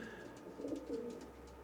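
Racing pigeons coo softly in a loft, with low, rolling calls overlapping in a steady murmur at a faint, fairly distant level.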